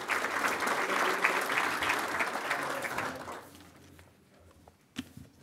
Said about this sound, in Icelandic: gefum þeim gott klapp